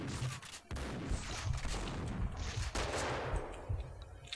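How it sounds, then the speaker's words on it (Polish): Sharp Dragunov sniper rifle shots crack amid a dense, noisy Max Payne 2 soundscape, with a couple of distinct loud reports standing out against a constant rumble of background effects. "Takie dwa strzały z Dragunowa karabinu snajperskiego radzieckiego i po sprawie."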